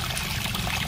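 Water poured into a plant container, a brief steady trickling splash heard close and alone.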